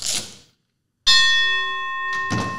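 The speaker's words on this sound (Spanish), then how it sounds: "voy a tocar la campana" A boxing bell rings once with a bright metallic strike and a long, steady ringing tone, following a short burst of noise and then silence, with a brief rustle near the end.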